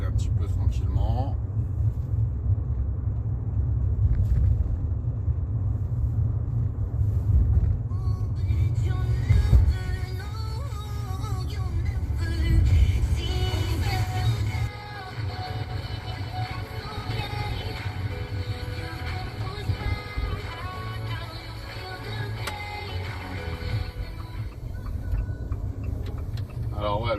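A Fiat 500 S with a 0.9 TwinAir 105 hp engine warming up, its low steady rumble running close throughout, changing tone partway through, with someone talking over it.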